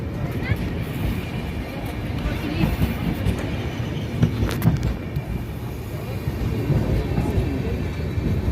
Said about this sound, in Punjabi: ਟ੍ਰੇਨ ਚੱਲ ਰਹੀ ਹੈ ਬਹੁਤ ਸਪੀਡ ਕਰ